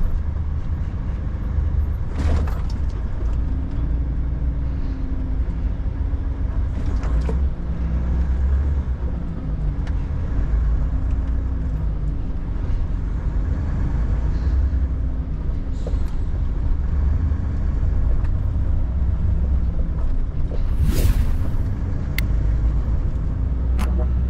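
Steady engine rumble and tire roar from a car driving on highway BR-262 near Três Lagoas, a continuous drone with occasional louder swells from passing traffic.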